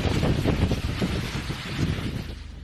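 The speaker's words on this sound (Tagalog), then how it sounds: "Malakas na ulan at hangin ang sumalubong sa ilang motorista sa Bagabag, Nueva Vizcaya." Loud, blustery typhoon wind buffets the microphone in continuous roaring gusts, with a steady wash of heavy rain beneath, in Bagabag, Nueva Vizcaya, Philippines.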